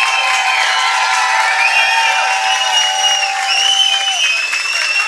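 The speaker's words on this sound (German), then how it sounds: "Ein bisschen Applaus, so meine ich, könnte nicht schaden." Concert audience at a shopping center opening in Villingen-Schwenningen applauding, a loud sustained wash of clapping and crowd noise with faint whistles throughout.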